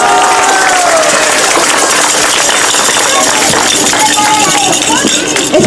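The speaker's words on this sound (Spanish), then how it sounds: "Denle un aplauso." Crowd applause for an image of the Virgin Mary at a neighbourhood Christmas novena in Ibagué, Tolima: dense, steady clapping with cheering voices that fills the whole stretch and stays loud throughout.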